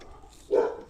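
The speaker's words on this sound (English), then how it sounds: "And y'all can hear our friendly dogs in the background." A friendly dog barks once in the background outdoors behind a house under renovation, a single short, fairly faint woof rising out of low ambient noise.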